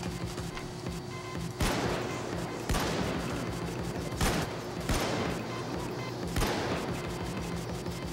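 Gunfire in the heist shooter Payday 2 comes as repeated volleys and sharp shot bursts every second or so, loud and close over a constant busy game background.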